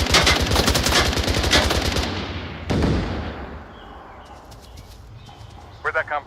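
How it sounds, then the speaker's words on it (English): Rapid burst of automatic gunfire from a misfired rifle in the VR shooter Onward, loud and close for about two seconds, then a single shot and fading echo, with brief voice chatter near the end. "That was me accidentally misfiring my gun"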